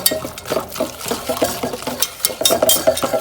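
Cheetos mac and cheese being stirred in a pot, a close, rhythmic run of wet squelches and spoon scrapes with a few light metallic clinks.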